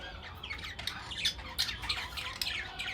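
Pigeons kept for sale give several sharp, squawking calls at an uneven rhythm, close by and moderately loud over a light background hiss.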